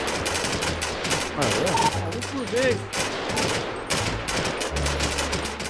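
Rapid bursts of automatic gunfire in GTA 5, loud and repeated in short, intermittent volleys, with someone speaking briefly over the shooting.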